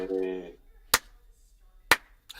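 Two slow, crisp hand claps roughly a second apart, close up, after a brief voiced sound at the start and a third clap beginning at the end.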